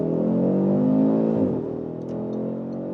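Updated Audi RS3 in sport mode accelerating hard onto a motorway, a loud close engine note rising steadily in pitch, then dropping at a gear change and climbing again.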